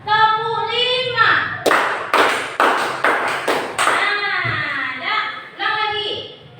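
Five evenly timed hand claps in quick succession as part of a children's classroom clapping game, with a teacher's voice just before and after.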